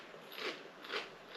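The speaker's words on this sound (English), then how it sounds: "Yeah, the crunch." Two crisp crunches, about half a second apart, as someone bites into flaky baked filo pastry on a lamb and mint pie, close and fairly quiet.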